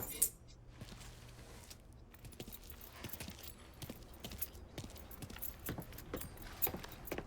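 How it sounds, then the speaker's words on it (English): Keys jangle and clink as they are picked up in the Mafia III video game, a steady run of bright metallic rattles and taps close by over a low background hum. "Lincoln, pick up the key."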